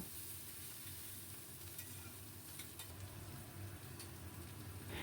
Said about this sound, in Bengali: এবার দিয়ে দিলাম টমেটো কুচি, খুব ভালো করে ভাজবো।